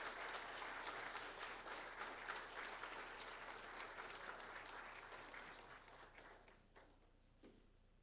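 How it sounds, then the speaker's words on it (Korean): An audience applauds to welcome arriving guests at the opening of a pedestrian safety seminar, sustained dense clapping that slowly thins and fades toward the end. "큰 박수로 환영해 주시기 바랍니다."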